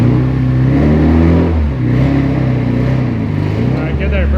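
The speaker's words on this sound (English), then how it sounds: "that exhaust leak is bad" A Mitsubishi Evo VIII with an exhaust leak revs loudly and close by, its engine drone rising and falling steadily throughout, while people talk over it.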